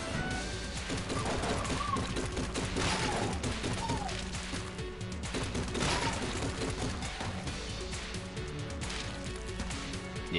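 Gunfire from the hip holster weapon in Enter the Gungeon comes as dense, continuous volleys of rapid shots and crashes, loud and busy throughout with game effects layered in.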